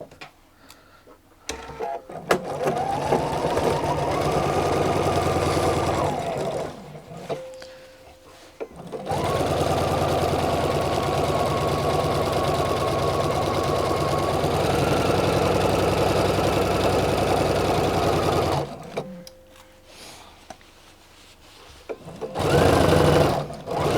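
A sewing machine stitches a Lutterloh jacket in three long runs of steady, close whirring, the motor pitch rising and falling slightly, separated by short pauses with small clicks.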